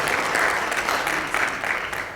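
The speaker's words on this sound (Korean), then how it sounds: "힘찬 응원의 박수 부탁드립니다" A room of party members at a Democratic Party meeting claps steadily and firmly in support of the floor leader, a brief dense burst of applause without talk.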